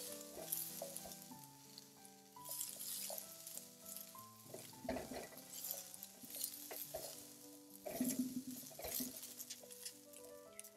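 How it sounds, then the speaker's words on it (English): Raw or steamed broccoli sizzles steadily in a hot pan as it is stirred and tossed, a continuous frying hiss with light clinks, all under background music for about ten seconds. "I'm going to take my broccoli, throw it in the pan"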